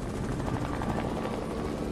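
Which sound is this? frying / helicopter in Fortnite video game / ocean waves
helicopter in Fortnite video game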